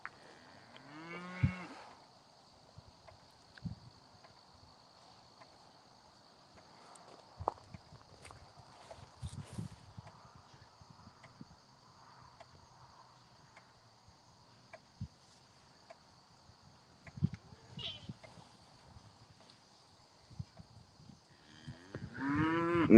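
Cattle moo loudly nearby a few times, with scattered hoof thuds and footsteps in between and a faint steady hum behind.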